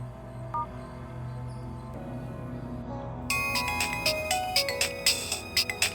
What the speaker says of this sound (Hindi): सर, मेरा फोन आ रहा है, प्लीज मुझे देंगे।